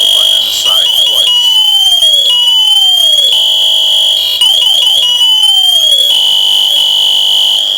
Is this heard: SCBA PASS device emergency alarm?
yes